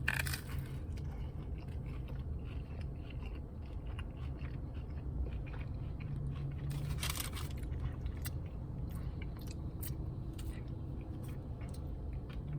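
Someone bites into a Doritos Locos Taco and keeps chewing, producing close, crisp crunches and wet mastication noises over a constant low background hum, with no talking.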